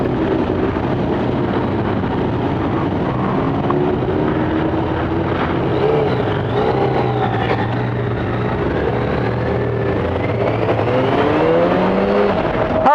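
A Yamaha FZ-6R motorcycle engine drones steadily under heavy wind rush at a rally, its pitch climbing gradually as it accelerates over several seconds, loud and continuous throughout.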